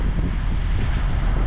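Strong wind roars steadily at a truck stop in Rock Springs, Wyoming, a dense, continuous low rumble of gusts buffeting the microphone with no pauses.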